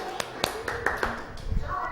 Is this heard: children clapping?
yes